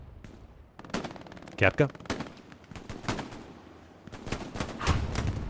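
Rapid machine-gun bursts from an MG42 in the World War II shooter Hell Let Loose, set around Carentan's train station, crackling in quick repeated volleys among other gunfire while someone talks over the action.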